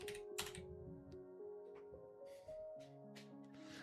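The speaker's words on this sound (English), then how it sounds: "we're not typing in the right place" Light, quiet clicks of typing on a computer keyboard, spread unevenly over soft sustained tonal music playing underneath.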